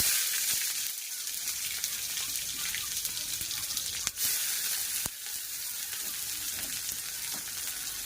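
Oil sizzles and hisses steadily in a hot wok over a gas flame as chow mein cooking begins, a constant close frying noise with a couple of sharp clicks.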